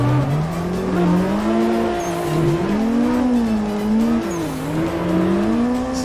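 Cars drifting on the Irohazaka mountain road in a racing video game, with engines revving and tires squealing in long wavering tones that rise and fall through the corners, loud and continuous.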